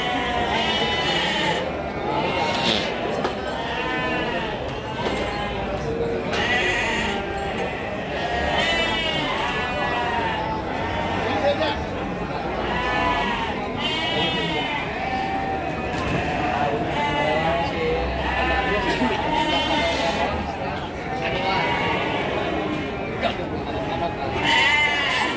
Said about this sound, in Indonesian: Ini kasep dombanya, teman-teman ya.